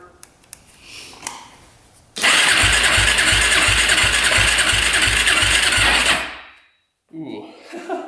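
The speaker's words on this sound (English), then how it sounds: "So we'll do throttle open. We'll see what we get. All right, here we go. Throttle open. Crank her over." Quad ATV engine with a weak compression fault cranked over by the starter with the throttle held open, a loud steady whirring churn with a rapid even pulse lasting about four seconds before cutting off, with faint voices before and after.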